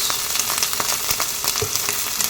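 Chopped onion dropped into hot oil with cumin, ginger and garlic for egg fried rice, a loud continuous sizzle with crackling pops and occasional stirring, close and without speech.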